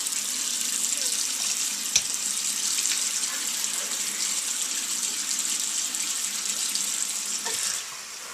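Water runs steadily from a tap into a sink for face washing, a constant close hiss with a couple of brief knocks, no talk.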